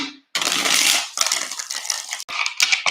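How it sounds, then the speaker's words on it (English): A deck of tarot cards is shuffled in three quick, crisp bursts of riffling and rustling, close and fairly loud, with short pauses between them and no talking. "3 shuffles."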